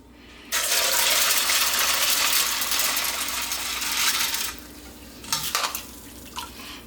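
Annatto extract pours through a kitchen strainer into a bowl in a steady splashing stream for several seconds, then trickles off into a few scattered drips and clinks, close by.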